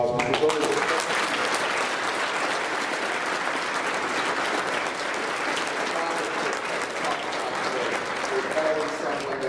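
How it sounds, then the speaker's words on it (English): A large convocation audience breaks into loud, thunderous applause at a scholarship and honors ceremony, heavy sustained clapping with cheers and voices threaded through that holds strong for the whole stretch. "even the louder, more thunderous round of applause."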